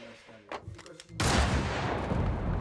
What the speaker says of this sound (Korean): 누구도 예상치 못한 총성이 울립니다